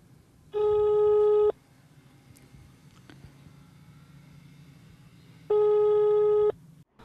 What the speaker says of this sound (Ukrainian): За номером телефону, який вказаний на табличці при вході на завод, ніхто не відповідає